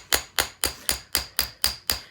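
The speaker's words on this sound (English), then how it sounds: "give it medium strikes with our hammer" A hammer gives medium strikes to a wire-wrapped beaded bangle to texture it: eight sharp, evenly spaced metallic taps ring out close and clear, with no talking.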